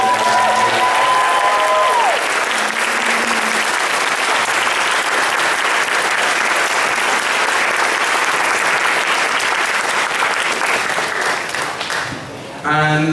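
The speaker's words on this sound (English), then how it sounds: "So please give a big round of applause to all the event." A large audience gives a long, loud, sustained round of applause at an anime convention closing ceremony, with a voice heard briefly at the start and the clapping dropping off near the end.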